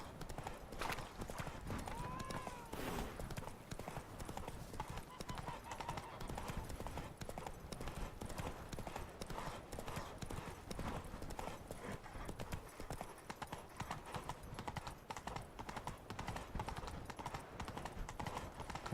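Continuous rhythmic clip-clop of horse hooves at a steady trot in the video game The Witcher 3: Wild Hunt, with a faint whinny early on and muffled ambient noise underneath.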